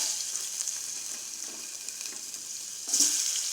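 Chopped onion with spices sizzling in hot oil while tempering for Tamil murungaikkai kuzhambu, a steady close hiss and crackle that flares louder near the end.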